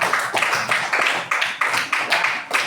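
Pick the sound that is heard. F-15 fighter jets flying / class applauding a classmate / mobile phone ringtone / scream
class applauding a classmate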